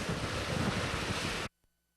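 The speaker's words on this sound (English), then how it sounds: "The winds with Wilma right now are fierce." Hurricane Wilma's fierce winds and waves roar across Naples Bay, a loud, continuous broadband rush of wind buffeting the microphone and surf crashing, cutting off abruptly after about a second and a half into near silence.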